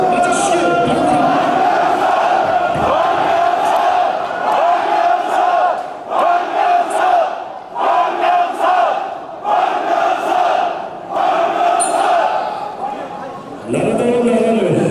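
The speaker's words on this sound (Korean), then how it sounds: "뜨거운 박수 맞아주시기 바랍니다." A large crowd at a political party rally in Korea chants and cheers in loud rhythmic bursts with brief gaps, rising again at the end.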